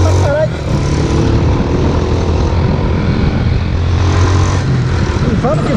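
Motorcycle fitted with a new exhaust and a new transmission, out on delivery rounds, its engine droning loud and close in a steady, continuous roar with no breaks.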